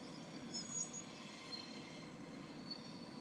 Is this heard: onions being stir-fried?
no